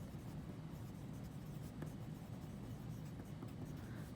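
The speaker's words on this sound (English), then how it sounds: "Let me write that down." Pen scratching steadily on paper while notes are taken during a science lesson, a faint, continuous close-up scribble under a low background hiss.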